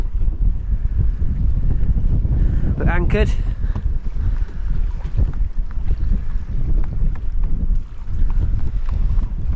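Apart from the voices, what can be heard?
wind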